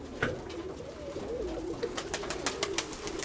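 A pigeon, ring number 56, coos softly in a loft, a low steady murmur running through the whole stretch, with faint scattered rustles and taps above it and no talking.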